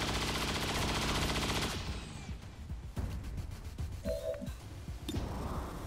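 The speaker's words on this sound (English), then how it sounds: "That beam cannon." Beam cannon firing in the video game XCOM 2, a dense rapid burst of heavy blasts that gives way to scattered impacts, crackles and a brief tonal whine, all loud and close, with no voices.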